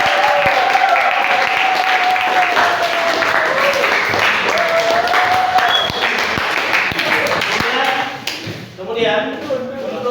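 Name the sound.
classroom applause for a student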